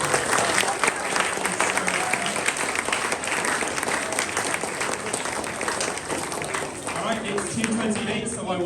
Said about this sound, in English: we have a massive round of applause